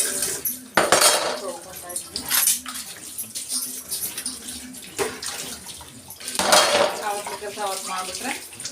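Pots and pans, including a greasy tempering pan, clatter and scrape under running water, with splashes and metallic knocks at irregular intervals; a voice speaks intermittently.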